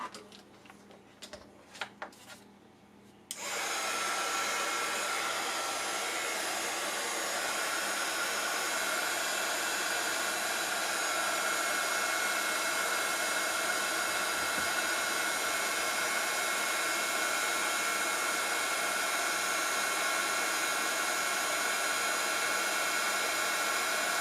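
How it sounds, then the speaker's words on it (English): Heat gun blowing steadily onto embossing powder on a sunflower greeting card, a loud continuous hair-dryer-like roar starting after a few seconds of quiet handling clicks and running unbroken to the end. "I'm just going to grab my heating gun and emboss this."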